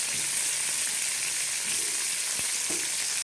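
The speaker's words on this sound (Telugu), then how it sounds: "అట్లా చిన్నగా మనం కదుపుతూ ఫ్రై చేసుకోవాలండి" Whole small eggplants fry in ghee in a pan, a dense, steady close-up sizzle that fills the whole stretch, with faint stirring scrapes underneath and a sudden cutoff at the very end.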